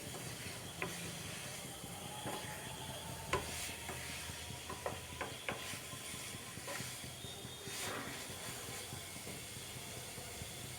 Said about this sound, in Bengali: খুব ভালো করে আলু পটল মশলার সাথে কষিয়ে নিচ্ছি।